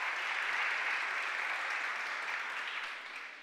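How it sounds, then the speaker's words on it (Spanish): An audience applauds steadily at a regional oratory competition, a dense even patter of clapping that fades slightly toward the end, with no voices over it. "Fuerte el aplauso para la Autoridad del Canal de Panamá."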